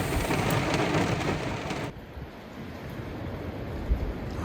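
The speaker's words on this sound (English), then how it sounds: "Rain's finally slowed down a little bit." Rain falls hard during a foul-weather hunt and sends up a dense, steady hiss, then eases abruptly partway through to a softer, continuous patter with a faint knock near the end.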